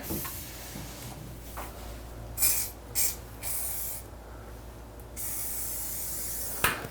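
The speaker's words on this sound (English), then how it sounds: "I'm just gonna rinse the bathtub to try and get all that excess sealer off of there." Water sprays from a handheld shower while rinsing excess grout sealer off a bathtub, a steady hiss broken by brief bursts and a few louder gushes, near and moderately loud, with no talking.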